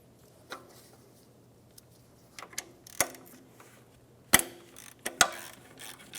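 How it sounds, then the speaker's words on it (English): A ratchet fitted with a 14mm socket works the top alternator bolt on a 2007-2012 Nissan Altima, giving sparse, quiet clicks and a few sharper metallic snaps in short bursts against near silence. "Using a 14mm socket, I'm going to remove the bolt on the top of the alternator."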